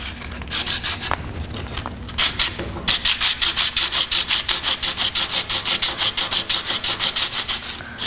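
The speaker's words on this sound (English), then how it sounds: "This is 50 grit sandpaper, obviously not for finishing, but I'm going to run it over some parts of this." Coarse 50 grit sandpaper rubbed over a water-based enamel finish, a close, loud run of rhythmic back-and-forth scratching strokes, a few irregular passes first and then a steady even stroke pattern.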